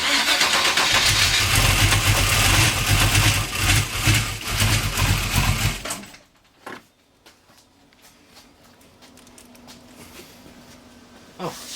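Car engine, a 383 stroker, roars loudly for several seconds at start-up, then cuts out abruptly, leaving a faint low rumble and scattered clanks.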